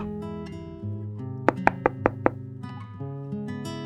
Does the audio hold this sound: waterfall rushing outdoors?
no